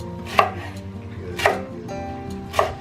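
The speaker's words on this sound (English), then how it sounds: "So I'm gonna chop the end off like to right here, and then cut them in like thirds and like chop them in half" Three sharp knife chops strike a cutting board about a second apart while vegetables are cut for a vegan roasted veggie curry, each crisp hit standing out over faint kitchen background.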